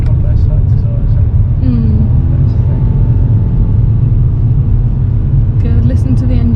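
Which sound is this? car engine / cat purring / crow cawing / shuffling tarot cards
car engine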